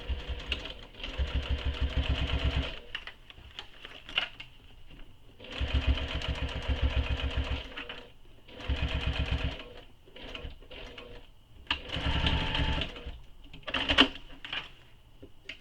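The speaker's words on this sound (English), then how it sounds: "So starting and stopping at those marks you made, start top stitching" A sewing machine top stitches a backpack in four or five close, loud runs of rapid mechanical chatter, starting and stopping between them, with brief quiet gaps.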